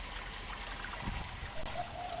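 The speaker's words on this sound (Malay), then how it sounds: "Aku sajalah buat efek sikit dengan menggunakan pump ni dalam kolam ni, untuk menjadikan air tu supaya macam ada efek-efek berombak-ombak sikit." A 25-watt pump stirs ripples across a tilapia fish pond, giving a soft, steady trickling and gurgling of water that runs continuously at low level.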